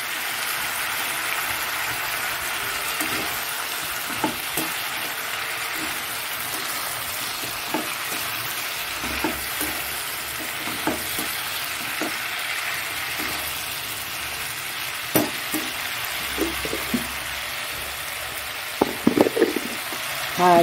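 Tomato added to fish curry sizzles and fries in hot oil, a dense steady crackling hiss throughout with occasional clinks of stirring.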